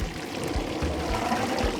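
Fresh blended tomatoes poured into a cooking pot for smoky party jollof, a steady thick liquid pour with low splashy gurgles running close and unbroken for about two seconds.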